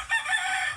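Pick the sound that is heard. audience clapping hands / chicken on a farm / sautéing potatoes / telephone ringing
chicken on a farm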